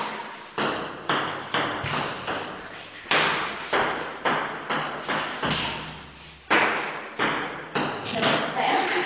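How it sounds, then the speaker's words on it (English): Table tennis ball struck back and forth with paddles on a beach, a steady rally of sharp, close pings every half second or so, with faint talk and wind underneath. "we're not going to be able to film our little table tennis match"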